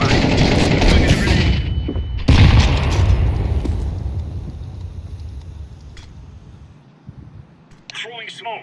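Grenade blast and bursts of gunfire in Counter-Strike 2, a loud broadband boom at the start and another around two seconds in, then a fading rumble with scattered shots and a brief voice near the end.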